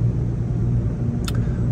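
A car rumbling and pulling away after a car wash, a steady low engine drone close by with a brief higher hiss near the end, no talk.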